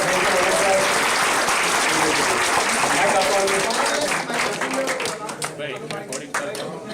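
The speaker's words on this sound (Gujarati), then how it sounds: "So જોરદાર તાળીઓ થઈ જાય." Loud, steady applause from an audience at a community gathering, dense clapping that thins slightly toward the end.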